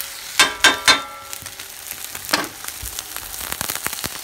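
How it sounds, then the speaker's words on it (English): Potatoes and eggs with vinegar peppers sizzle in a hot pan, opening with three sharp crackling bursts, then a softer flare and a steady low frying hiss with scattered pops, no talking. "We're just going to let that cook in the pan for another 30 seconds"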